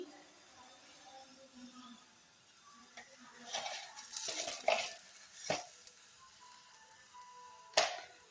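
Kachuri filling mixture, seasoned with black salt, salt and sugar, being stirred in a pan, with soft scraping and a few sharp spoon clinks against the metal, sparse and fairly quiet.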